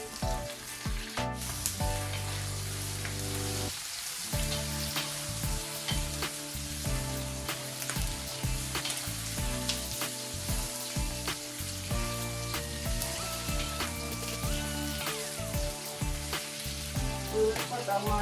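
Pork frying in a pan with bay leaf and black pepper for Filipino adobo, a constant loud sizzle with crackling pops and scraping stirring throughout.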